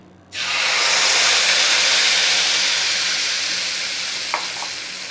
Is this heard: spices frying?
yes